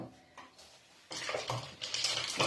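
Ice and liquid clinking against a spoon and the sides of a jug of sangria being stirred, starting faintly and then turning into a close, busy rattle of knocks and sloshes.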